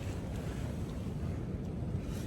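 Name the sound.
strong wind blowing outdoors on the trail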